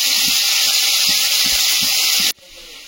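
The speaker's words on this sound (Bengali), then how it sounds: "আলুটা এটাকে ভাজতে দিচ্ছি।" Potato dropped into hot oil for frying gives a loud, steady hiss and sizzle at close range, with faint low knocks underneath, cutting off abruptly near the end.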